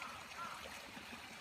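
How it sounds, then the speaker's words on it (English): Floodwater trickles and flows steadily through a wall in a soft, continuous wash, faint and unbroken. "That's why the water is just non-stop coming through my wall."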